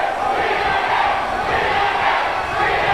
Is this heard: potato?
no